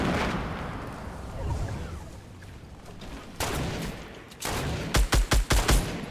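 Gunfire in a Fortnite 50v50 match: scattered shots and rumbling blasts build through the clip, ending in a loud run of five or six sharp, evenly spaced shots close by.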